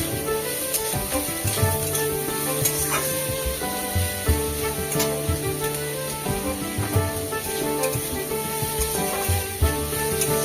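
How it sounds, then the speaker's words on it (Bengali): Potatoes and onions fry in a pan for a banana-blossom curry, giving a steady, close sizzle with bursts of spattering that runs unbroken and fairly loud throughout, with no voice over it. "আলুটা পেঁয়াজের সাথে দিয়ে ভালো করে একটু লালচে করে ভেজে নিতে হবে।"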